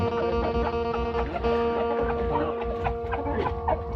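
Many chickens cluck and chatter continuously at close range on a chicken farm in Israel, a busy overlapping flock sound with a low background hum.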